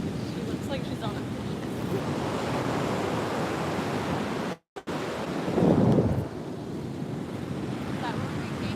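Waves break on a large sandy beach, a steady roar of surf mixed with heavy wind buffeting the microphone, continuing throughout apart from a brief dropout and a louder gust midway.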